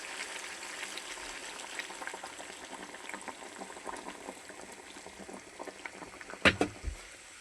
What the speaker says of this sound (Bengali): এদিকে পানি ফুটাই নিছি ফুটানো পানিটা ঝোল দিয়ে দিবো